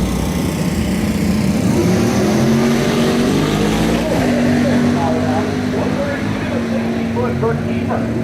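A twin-turbo small-block drag car at a northern Michigan dragway runs with a loud, sustained engine drone and rising whine that fill the whole stretch, while a voice talks over it.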